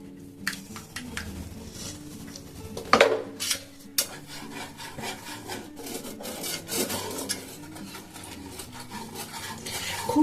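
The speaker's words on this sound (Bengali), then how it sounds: "এই যে দেখুন একদম লো ফ্লেমে আছে, সমানে কিন্তু এটাকে নাড়িয়ে চাড়িয়ে যেতে হবে।" An ice cream mixture being stirred in a pan over a low flame, with a steady scraping and rubbing of the spoon against the pan bottom, close up and rhythmic, with an occasional sharper knock.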